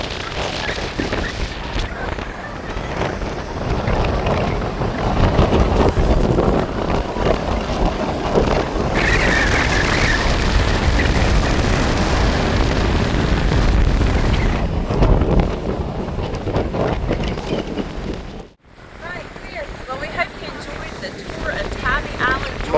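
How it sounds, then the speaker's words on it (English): Strong wind buffets the microphone on the beach at Tybee Island, Georgia, a loud continuous roar with gusting swells and a brief lull near the end, with people talking faintly underneath. "it's so windy out here"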